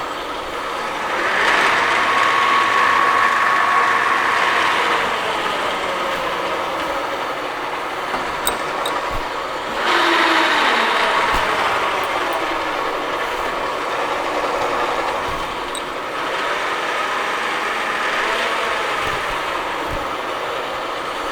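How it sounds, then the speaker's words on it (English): A Summit gap-bed engine lathe, model 16X60B, running as its gear range is changed, giving a continuous mechanical whir that swells and fades in broad waves with occasional clicks and a brief high tone. "Change one more gear range."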